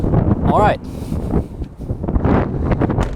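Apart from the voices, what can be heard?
wind blowing into the microphone outdoors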